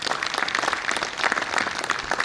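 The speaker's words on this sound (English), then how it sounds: "Let us have a huge round of applause for all of them." Steady applause from an audience at an award ceremony, a dense continuous wash of clapping for the President Award and DG Award winners, moderately loud and sustained throughout.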